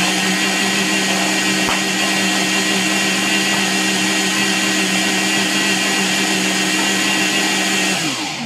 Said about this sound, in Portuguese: Bateu tudo no liquidificador.